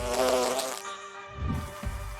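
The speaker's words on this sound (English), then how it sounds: "you'll see the golden bee fly moving through the air" A golden bee fly buzzes close by in flight, a droning hum that fades and returns briefly, with no voices.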